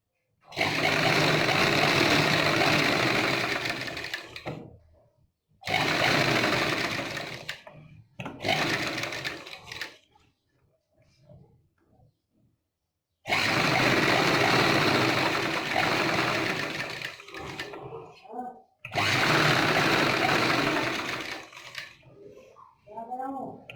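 A sewing machine stitches a back neck design in long, steady whirring runs, stopping and restarting several times with short quiet pauses between bursts, loud and close.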